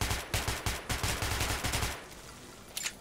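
Rapid gunfire rings out in Metro 2033 target practice, a burst of about ten sharp shots in quick rhythm, then a short pause and two more shots near the end, loud and close.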